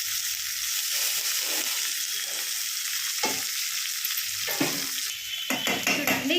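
A spoon stirs eggplant curry (vankaya kurma) in a sizzling pan, with steady frying hiss throughout and a few louder scrapes and clinks of the utensil against the pan toward the end.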